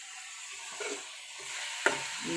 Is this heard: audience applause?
no